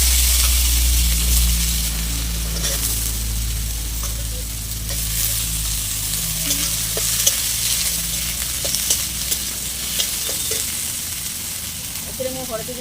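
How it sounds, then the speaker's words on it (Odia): Vegetables dropped into a hot pan with crushed ginger for a saag curry, a loud, continuous sizzle with scattered stirring scrapes, steady and close throughout. "ଏବେ ହେଇଗଲା, ପରିବା ପକାଉଛି।"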